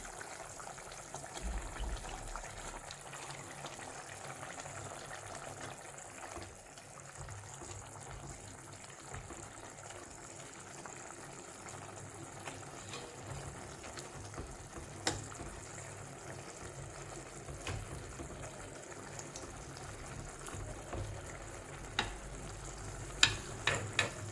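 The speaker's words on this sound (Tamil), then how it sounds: "இப்போ நம்ம ஃப்ரை பண்ணி வச்சிருக்கிற பாவக்காய் சேர்க்கலாம்." Fried bitter gourd is stirred into cooking masala for a curry, giving a faint continuous sizzle with scattered soft spoon clicks that grow more frequent near the end.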